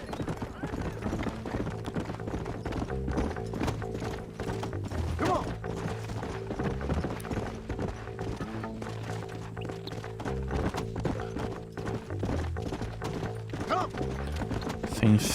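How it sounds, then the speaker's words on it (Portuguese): A horse in Red Dead Redemption gallops hard, its hooves pounding in a busy continuous clip-clop under game music and mechanical rattles, fairly loud and close throughout. "Ele vem na loucura, o cavalinho"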